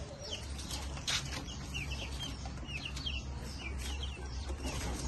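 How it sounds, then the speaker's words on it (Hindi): Hens and growing chicks cluck and chirp softly around a farmyard, scattered short calls over a steady low background hum, faint and somewhat distant. "यहाँ पे सारी मुर्गियाँ और ये वाले चूजे तो माशाल्लाह बहुत बड़े हो गए हैं"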